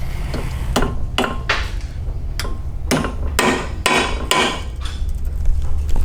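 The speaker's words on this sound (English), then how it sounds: "I have a brass hammer." A brass hammer taps on a metal tube, about ten ringing strikes in an uneven rhythm, close by over a low background hum.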